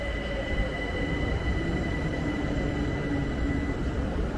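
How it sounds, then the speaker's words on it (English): A public transit train in Tehran, Iran rolls along with a loud, steady, continuous rumble and faint high wheel tones from the track, close by, with no speech. "A train,"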